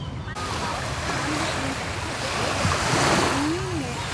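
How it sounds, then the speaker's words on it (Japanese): Surf washes in on Samila Beach in Songkhla, southern Thailand, a broad hissing rush of breaking waves mixed with wind buffeting the microphone, with faint voices in the background. "サミラビーチはソンクラー市民の憩いのビーチ。"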